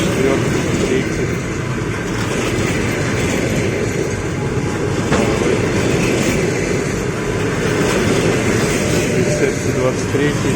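An EP1M electric locomotive pulls passenger train No. 143 from Murmansk to Yaroslavl into a station, and its wagons roll past with a loud, steady rumble and rhythmic wheel clatter that fills the whole stretch.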